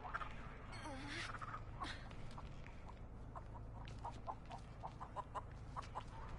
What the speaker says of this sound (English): I think you can feed them bone scraps to calm the chicken down